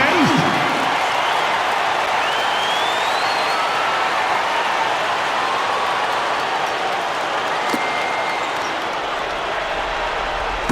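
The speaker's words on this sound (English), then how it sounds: "Give them a round of applause, fans." A large arena crowd at a Dallas Mavericks basketball game roars and applauds in a dense, steady wash of noise, loud and sustained throughout, with a few faint whistles rising through it.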